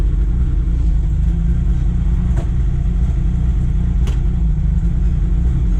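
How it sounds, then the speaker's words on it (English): A 1974 BMW 3.0 CS E9 engine, first started in 15 years and barely getting fuel, idles with a steady low rumble, broken by a couple of sharp, uneven pops from misfires. "Here it is, idling, guys. It's misfiring really bad"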